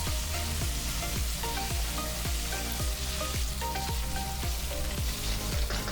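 Turmeric and red chilli powder sizzle and fry in a pan, a constant close hiss of crackling oil. Over it runs a regular series of low, descending musical tones, with no talking.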